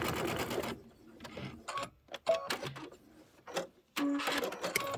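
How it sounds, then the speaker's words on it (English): A home sewing machine back stitching while making a reindeer tote bag, with short bursts of motor whir and needle chatter separated by pauses, close and fairly quiet. "I'm going to back stitch"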